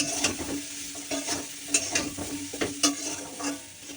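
Spices and salt being stirred in a frying pan, a quiet sizzle broken by repeated scraping strokes of a spatula in an uneven rhythm, no voices.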